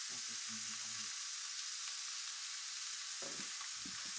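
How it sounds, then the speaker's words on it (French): Venison roast searing in a hot pan with a little olive oil, giving a steady, even sizzle throughout with faint low clatter at the start and near the end. "Et maintenant, on va mettre en fait le rôti. Donc c'est parti, on met notre rôti."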